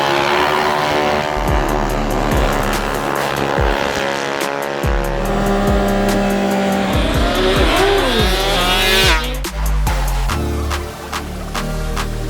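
High-speed electric scooters drag racing, with loud sustained whining motor tones sweeping up and down, sharp squeals and passing rushes layered densely throughout, close and continuous.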